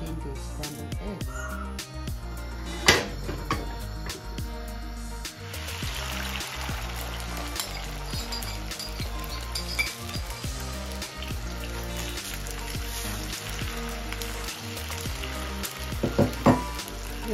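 Scrambled eggs sizzle in a frying pan, a steady, close crackling hiss with occasional louder pops and light clinks of a utensil against the pan, continuing without pause.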